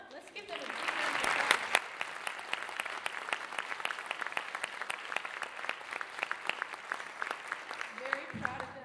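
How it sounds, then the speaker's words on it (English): A school band concert audience breaks into applause for two student players, swelling quickly then settling into a steady clatter of individual claps at moderate distance, with a voice briefly heard at the very end. "Let's give them a big round of applause."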